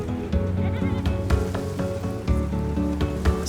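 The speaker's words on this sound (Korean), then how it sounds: "눈이 올 땐 키우는 염소도 걱정입니다." Goats raised on a snowy ridge on Ulleungdo give steady, overlapping bleats, clear and fairly close, with soft gritty background noise throughout.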